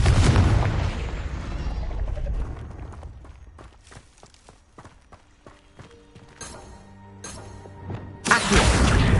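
Confringo spell blast in the Hogwarts Legacy video game, a loud booming explosion that decays into scattered thuds and footsteps, followed by another sharp burst near the end.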